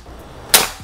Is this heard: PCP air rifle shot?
yes